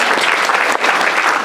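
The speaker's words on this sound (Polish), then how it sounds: "Brawa dla naszych babci." An audience claps steadily for the grandmothers at a Silesian-language gathering, dense, even applause filling the whole moment without any voices on top.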